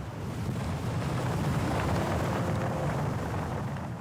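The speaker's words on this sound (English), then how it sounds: "the wind suddenly picks up. The wind is really strong." Strong wind blowing steadily at a cliff edge in snowy Kazakhstan, a loud continuous roar with heavy buffeting against the microphone, no voices.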